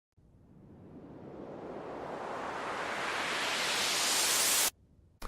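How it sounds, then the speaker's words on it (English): Steady hissing white noise that gradually brightens and swells louder over several seconds, then cuts off abruptly. "So here's the white noise."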